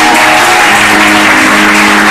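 A congregation at a Congolese missionary church gathering claps and cheers loudly, a dense, saturated wash of crowd applause and acclamation that fills the whole short moment without pause.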